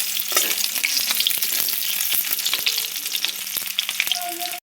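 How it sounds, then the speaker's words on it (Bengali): Fish-stuffed pointed gourd (potol) frying in leftover fish-frying oil, a loud continuous sizzle punctuated by frequent sharp crackles and pops, with light utensil contact, no voices. "মাছ ভাজার যে তেলটা বেঁচেছিল সেই তেলে পটল ভাজা হয়ে যাবে।"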